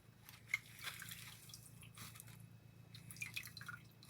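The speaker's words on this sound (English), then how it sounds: "I'm going to be getting it damp with some water." Water drips faintly as a small sea sponge is dampened for acrylic painting. A few soft, scattered drops and light wet sounds occur in a quiet room with no talking.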